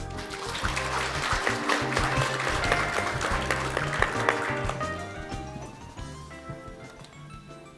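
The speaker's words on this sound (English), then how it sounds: "Please welcome him with a warm round of applause." A conference audience at the Asia Sustainable Finance Forum 2022 applauds to welcome the Financial Services Commission chairman, giving dense, steady clapping that tapers off toward the end.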